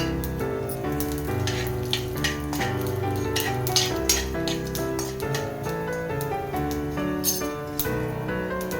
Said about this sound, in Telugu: అందులో నేను కొద్దిగా ఆవాలు మెంతులు జీలకర్ర మినప్పప్పు వేసుకుంటున్నానండి ఇవి వేసి ఒకసారి వేగనివ్వాలి